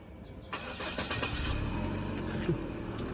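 Nearby, a 2013 Chevrolet Sonic engine turns over by remote start with a short burst of cranking, then catches and runs at a low, even idle.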